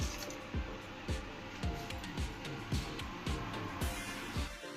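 Mustard seeds splutter and pop in hot coconut oil in a pan, a steady string of sharp, evenly spaced crackles over a continuous sizzling hiss, with no talking.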